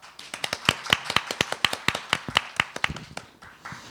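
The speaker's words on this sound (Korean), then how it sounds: "뜨거운 박수로 다시 한번 맞이해 주시기 바랍니다" An audience applauds to welcome a professor onstage for a special lecture at a university education festival. The clapping is dense, sharp and steady throughout, with no talking over it.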